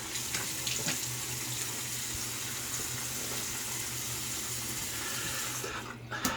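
Tap water runs steadily into a sink for rinsing after a shave, a continuous close rush with a low hum underneath, ending with a brief change near the close.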